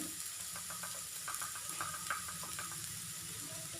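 Onion and turmeric sautéing in a pan for okra thoran, a steady soft sizzle with light stirring scrapes and small clicks throughout, fairly quiet and close, no voices.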